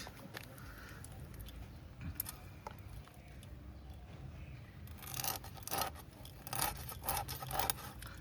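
Faint, repeated scraping and cutting sounds of a hilsa fish being cut, rasping in irregular strokes that grow louder and busier toward the end.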